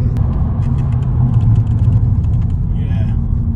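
A Skoda Fabia petrol car dropping a gear on the road, its mid-pitched engine rumbling steadily from inside the cabin with light road noise and no sharp revving.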